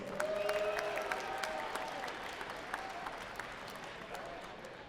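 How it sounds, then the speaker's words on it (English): A crowd at a shooting competition claps steadily for the referees, loud at first and tapering slightly, with a few cheers and whistles rising above the applause. "One more loud round of applause for our refs today."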